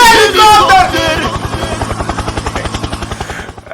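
A helicopter in the tank game War Thunder beats loudly and steadily, its rotor thumping in a fast regular pulse that dominates throughout, while a singing voice fades out over the first second.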